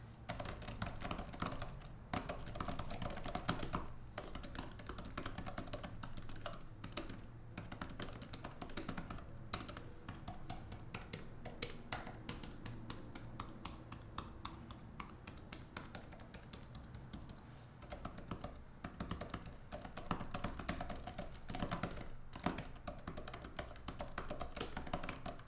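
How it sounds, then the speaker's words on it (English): Rapid, steady tapping on an ESR Rebound 360 iPad keyboard case, soft close key clicks in continuous bursts with brief pauses, no voices. "that's not going to affect the way that the keyboard sounds"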